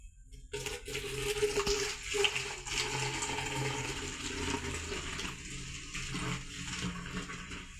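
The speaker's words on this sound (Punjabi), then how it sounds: "ਹੁਣ ਆਪਾਂ ਇਹਦੇ ਵਿੱਚ ਪਾ ਦੇਣਾ ਪਾਣੀ" Water rushes and splashes steadily into a vessel for several seconds, a continuous close-up gurgling pour with no voices.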